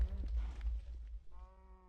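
Sheep bleating in a farming video game, a short harmonic bleat closing out the moment after a stretch of low rumbling and muffled game noise, moderately close and fairly quiet.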